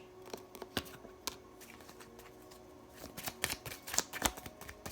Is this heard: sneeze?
no